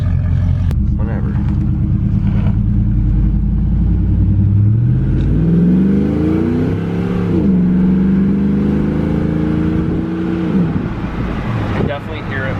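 A Chevrolet Trailblazer SS engine with new stainless long-tube headers revs up and down nearby with a throaty, raspy exhaust tone, steady rumble underneath, and people talking over it.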